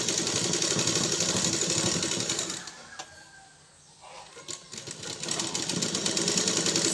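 A sewing machine runs steadily while stitching a single strip of fabric at a quarter-inch margin during a tailoring lesson. The dense, even whirring pauses briefly midway, then resumes at full speed, with no talk.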